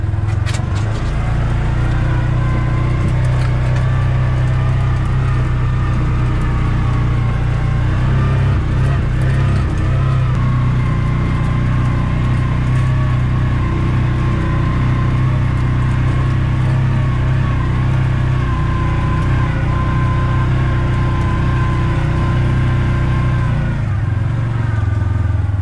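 A Kawasaki Mule Pro MX utility vehicle drives steadily, its engine droning loud and close for the whole stretch with gentle rises in pitch and no talk over it.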